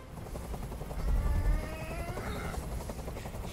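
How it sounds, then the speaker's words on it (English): Helicopter noise from the video game Detroit: a heavy rhythmic rotor thump, close and loud, swelling midway through, with faint whirring overhead and no talk. "I can't stand that noise anymore. Tell that helicopter to get out of here."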